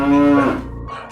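A single cow gives a loud, close moo lasting under a second, followed by a brief quieter tail.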